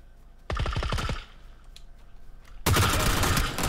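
AK rifle fire in the PUBG video game: a short burst of rapid, loud automatic shots, a brief lull with faint distant pops, then another sustained dense volley.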